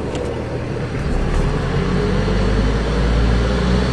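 A diesel caravan engine drives in third gear, a loud, continuous close-up road drone with a low engine rumble that rises slightly toward the end.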